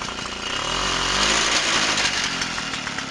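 A Peugeot 103 moped engine with a Gurtner carburetor revs up from idle into a rising, buzzy two-stroke whine, loud and close, then holds steady with no talking.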